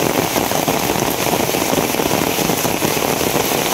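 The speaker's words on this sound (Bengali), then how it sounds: "প্রচুর পরিমাণে বৃষ্টি," Heavy rain pouring down steadily in a rural riverside setting after a night of continuous downpour, a dense, loud, unbroken hiss of drops striking surfaces with no voices.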